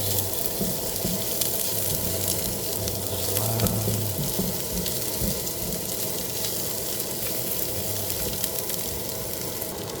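Onion and garlic sizzle steadily in a hot pan, a continuous close frying hiss with faint stirring scrapes, loud and unbroken throughout.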